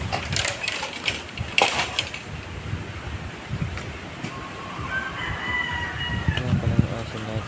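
Rooster crowing and hens clucking around a bamboo-fenced chicken pen on a rural Filipino clearing plot, the calls moderately close and intermittent over steady outdoor background noise.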